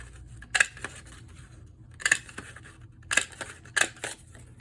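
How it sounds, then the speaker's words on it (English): A Fiskars flower punch punching paper flowers out of card, giving four sharp, crisp clicks spaced about a second apart over a quiet background. "I'm going to use my Fiskars flower punch. I'm just going to punch out"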